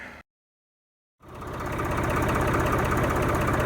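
A tractor engine, the 395, idles steadily at close range after a brief dropout of silence, its low, even chugging running on continuously while a wagon is hooked up.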